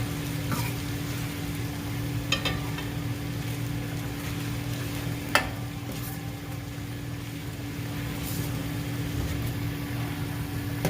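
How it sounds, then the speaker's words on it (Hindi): Ginger garlic paste frying in a pan gives a steady low sizzle under a constant background hum, with a few faint clinks and stirring sounds, no voices. "अदरक लहसुन के पेस्ट को हम 1 से 2 मिनट कुक करेंगे।"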